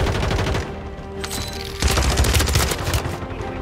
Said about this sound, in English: why am I getting shot at, bro?